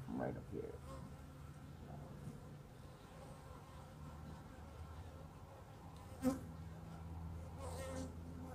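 Honeybees buzzing around a swarm trap hive, a continuous low drone of many bees close by, with a brief louder bump partway through.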